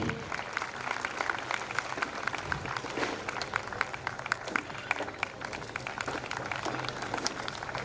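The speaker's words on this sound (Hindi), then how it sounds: "जोरदार तालियां बहनों से अनुरोध है।" Audience applause welcoming an honoured guest at a spiritual gathering, a steady dense wash of clapping from a crowd lasting throughout, fairly distant and even, with faint voices underneath.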